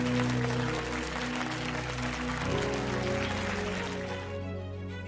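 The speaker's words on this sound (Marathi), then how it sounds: "जोरदार टाळ्या." Audience applause at a stage event where guests are being called up, a steady clapping wash that runs the whole time under sustained music tones.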